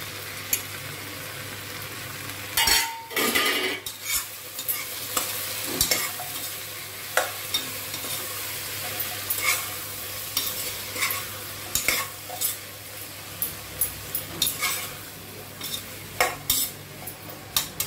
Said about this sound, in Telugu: కొంచెం పచ్చి వాసన పోయే వరకు ఫ్రై చేసుకుందాము